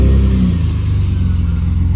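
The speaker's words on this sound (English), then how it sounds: "starts on the button now, which is what it wasn't doing, and it idles pretty stable as well" A BMW E34 with the M50 engine runs at a steady, loud idle, a deep close rumble holding an even pitch after a brief higher surge at the start.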